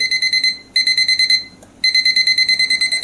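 An electrical continuity tester's buzzer sounds close and loud while checking a cable: rapid, evenly pulsed high beeps in two runs separated by a brief silent gap.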